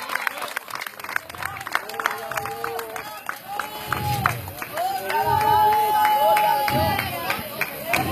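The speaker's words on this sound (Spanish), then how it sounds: "Esto puede dar un aplauso a Jesucristo." A church congregation applauds, a rising wash of clapping and crowd noise that swells and holds toward the end, mixed with a voice speaking loudly over it.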